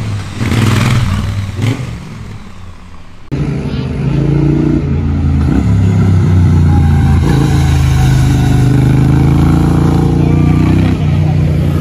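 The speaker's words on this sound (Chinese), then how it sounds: "那最后我来跟大家讲这台车的一些声浪还有排气管的话" A Triumph Bonneville T100 retro motorcycle idles and revs, a deep, steady exhaust rumble close to the microphone that swells after a few seconds and then holds.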